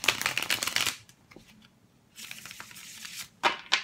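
Tarot cards being shuffled in two crisp riffling bursts separated by a near-silent pause, close and clear, ending with a couple of short snaps; no one speaks.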